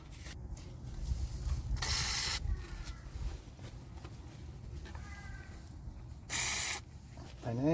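Two short hissing bursts of penetrating oil sprayed onto a bolt thread at the front strut of a 2013 Chevy Impala, each about half a second long, with faint garage noise between them.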